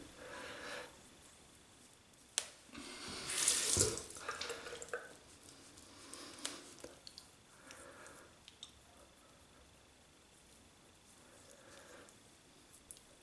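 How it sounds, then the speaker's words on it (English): Tap water runs in a sink to wet an alum block during a shave, a brief gush and splash near the start, then faint dripping and small wet handling sounds in a quiet room, with no talking. "I'll wet the Alum block."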